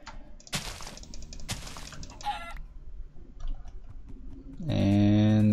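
Chickens cluck in the Minecraft video game: a few short clucks mixed with other game sounds, ending in a louder tonal burst.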